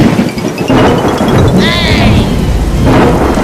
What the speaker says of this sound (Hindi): अरे बाप रे बाप, इतना भयंकर तूफान।